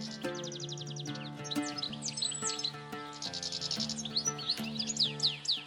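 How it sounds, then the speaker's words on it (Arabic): A goldfinch chirps in quick, bright bursts of twittering calls, fairly close and moderately loud, with no voices. "طائر يختفي بسرعة البرق ويعود ليظهر في لحظة خاطفة. إنه طائر الحسون"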